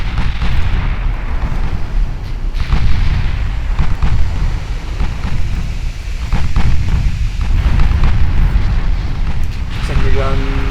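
Heavy naval guns booming in the naval battle game Ultimate Admiral Dreadnoughts, a loud continuous barrage of overlapping blasts and rumbling explosions.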